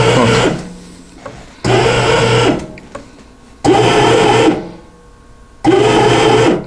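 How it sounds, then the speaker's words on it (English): A bread machine kneading and mixing French-style dough, its motor whirring loudly in four regular bursts of about a second each, separated by short quiet pauses, close up. "Then we let it knead and mix as needed."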